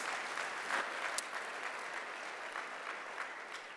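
Applause from a large convention audience of association leaders gathered in San Diego for ReMA 2025, a steady dense wash of clapping heard from within the hall, fairly even in loudness throughout with no voices over it.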